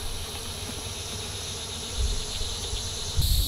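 Honey bees buzzing around a hive during a move from swarm traps to a nuc, a continuous close drone that swells slightly near the end, with no speech.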